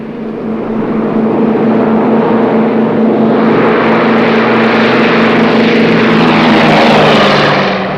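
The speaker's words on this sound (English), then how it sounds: "There's my plane." A propeller airliner departs in a 1949 film scene, its engines droning loud and steady throughout with a rising, sweeping pitch as it gathers speed, with no voices over it.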